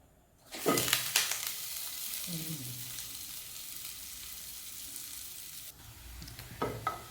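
Bottle gourd adai batter frying in a little oil on a pan, sizzling steadily and close for several seconds, with brief scraping and clatter at the start and end.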